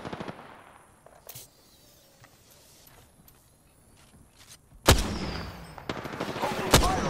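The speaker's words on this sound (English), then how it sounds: "The enemies are shooting at me." Enemy gunfire in Apex Legends, a few sharp distant cracks early on, then louder close bursts of shots in the second half over low game ambience.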